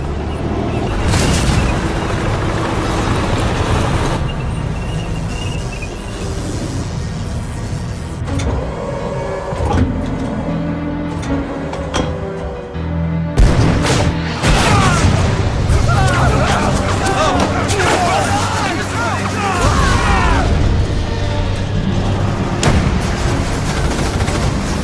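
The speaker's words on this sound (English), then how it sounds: "What's that? Sounds like a tank." A tank in battle in the Valkyria Chronicles strategy game, a dense, loud mix of engine rumble, booming explosions and gunfire, with a heavy blast about halfway through and voices talking over it.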